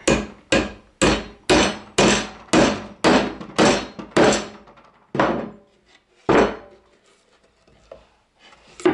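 Hammer driving a nail into a wooden birdhouse: about a dozen sharp, evenly spaced blows, loud and close, slowing and then stopping near the end with a last strike.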